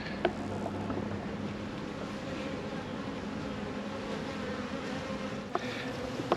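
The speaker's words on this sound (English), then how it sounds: "But check these bees out." A swarm of bees at a fire station makes a steady, dense buzzing hum that fills the whole stretch at close range, with a couple of brief knocks near the start and end.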